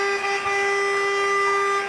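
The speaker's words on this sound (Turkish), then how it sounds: "Kornası bile çalışıyor." A car horn on a TV game show set blares one continuous, loud, steady tone for about two seconds, with no talk over it.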